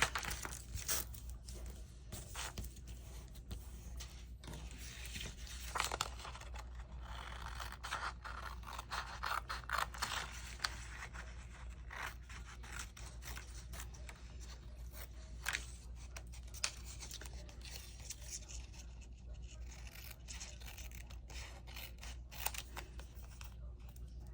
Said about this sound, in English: let's cut it out